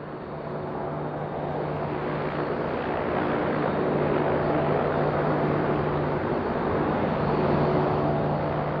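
The turbine of the Convair Pogo, an experimental turboprop aircraft, spins up as a continuous roar with a steady low hum, swelling slightly in loudness as it runs, with no voices.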